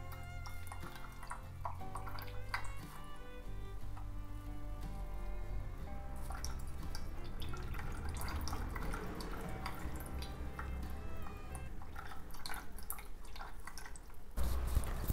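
Whey water dripping and trickling out of yogurt being strained, with soft continuous drips and splashes close by, set against a steady background music bed and no talk.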